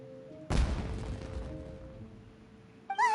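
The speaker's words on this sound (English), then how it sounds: "It sounded like fireworks." A fireworks blast in the Genshin Impact game bursts in at once, loud and near, then trails off in a long crackling, rumbling decay over a steady musical tone, with a brief bright chime near the end.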